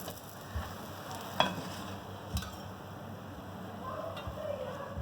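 An aloo paratha fries in a pan over medium to low heat, giving a soft, steady sizzle. A few light taps and clinks sound nearby.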